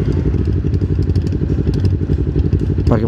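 A big-displacement Honda Rebel motorcycle engine idles loud and close, a steady deep throbbing rumble with a rhythmic low pulse, and a brief whine near the end.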